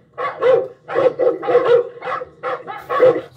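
Several dogs barking repeatedly in close, loud bursts, about eight barks in quick irregular succession with no other sound between them.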